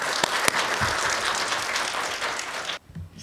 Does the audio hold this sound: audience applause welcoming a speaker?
yes